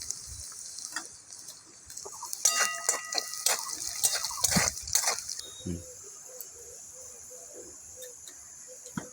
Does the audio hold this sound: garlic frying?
yes